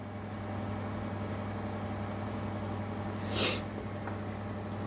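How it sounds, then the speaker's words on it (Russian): A single sharp sneeze bursts out once, fairly close and loud, against a steady low room hum, with no talking around it. "Ой, чихнуть хочу."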